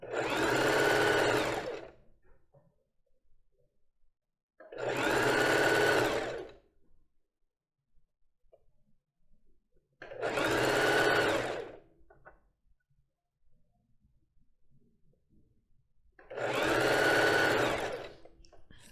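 A sewing machine stitches lace for a basic bra in four separate bursts of about two seconds each, evenly spaced with quiet pauses between, close and clear.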